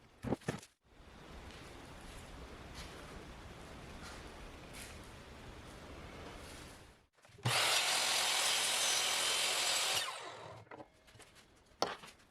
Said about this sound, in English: get it ready to cut down to final length before I glue on the end caps